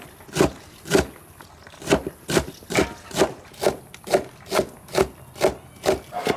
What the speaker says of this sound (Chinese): 蒜苔切成丁儿